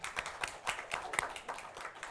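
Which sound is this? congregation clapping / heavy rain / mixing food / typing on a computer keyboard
congregation clapping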